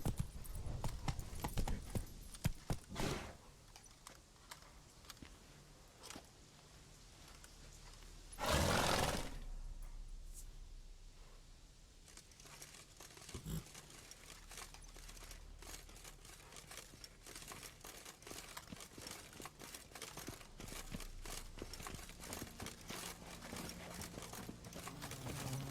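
The horse Roach gallops in The Witcher 3 with fairly quiet, irregular clip-clop hoofbeats, broken by a few sharp bursts and a louder rushing swell partway through, and no one speaks.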